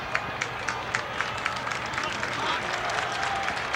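Crowd at a 1988 Syracuse versus UMass lacrosse game applauding a defensive play, a steady wash of clapping with scattered sharp claps standing out, heard at a distance beneath continuous commentary.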